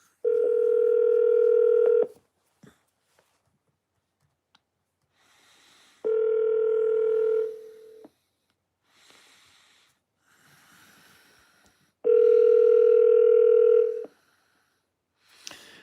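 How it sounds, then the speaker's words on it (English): Ringback tone of a phone call placed through an Alexa voice assistant: three steady two-second electronic ringing tones separated by longer silences, loud and clear, with no voices. "Alexa, call Double K. Calling Double K"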